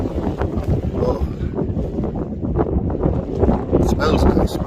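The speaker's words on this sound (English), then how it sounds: "it is fairly windy" Wind gusting at a wild camp in the Lake District, buffeting the microphone with a rough, rumbling roar, loud and constant, while someone talks over it.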